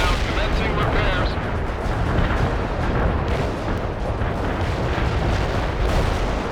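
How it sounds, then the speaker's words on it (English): An artillery barrage in the World in Conflict strategy game, a dense, continuous roar of loud rumbling explosions and booms that overlap with no break, with a voice faintly mixed in. "Artillery barrage hit for full effect."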